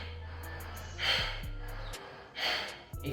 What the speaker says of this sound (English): Like inhale.